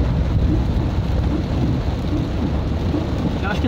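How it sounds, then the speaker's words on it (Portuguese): Steady rain falls outside around a car in town, a dense continuous wash of drops with low rumbling underneath that may be distant thunder, heard alone without talk. "Porque aqui tá chovendo."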